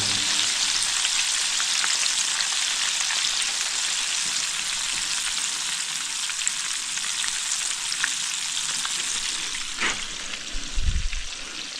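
Chicken frying slowly in a pan at a campsite, a steady close crackling sizzle that carries on evenly throughout, with a brief clink near the end and no talking.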